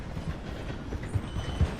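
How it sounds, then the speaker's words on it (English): A train in Red Dead Redemption 2 rolls along, slowing down through a station, with a steady rumble and irregular clanking thumps from the wheels and carriages, fairly close. "The train is slowing down to go through the station."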